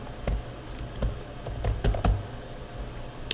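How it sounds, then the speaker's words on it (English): Typing on a computer keyboard: a short, uneven run of light key clicks, close and fairly quiet against a soft background hum. "I'll type in Washington County again."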